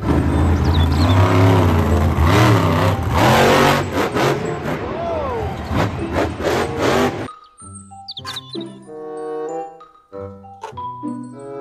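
Toy monster truck with a revving motor sound effect, loud and continuous for several seconds before breaking into short chiming electronic tones.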